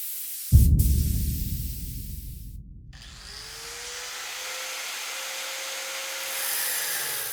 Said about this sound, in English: I'm using water-based polyurethane, and I'm spraying on 3 coats